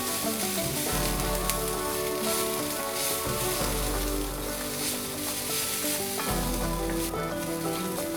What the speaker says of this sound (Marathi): 2 लवंगा, 4 काळी मिरी आणि थोडासा दालचिनीचा तुकडा, अर्धा चमचा बडीशेप आणि धणे हे घालून परतून घ्यायचे